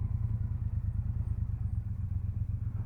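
A Triumph Bobber Black motorcycle engine under way, giving a low, steady, throbbing rumble with a pulsing beat that runs throughout, close and fairly loud with no talk.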